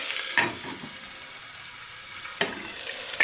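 Onion and tomato sizzle and sauté in a pan for Maharashtrian masala bhat, a steady hiss broken by two sharper stirring scrapes, close and with no voices.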